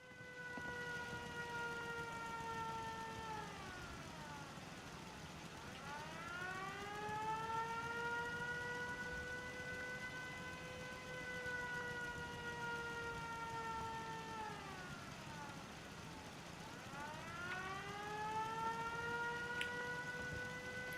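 A civil-defense style siren in the video game Fallout 4 winds up and down in long repeating cycles, sustained and droning at moderate distance, with no talking.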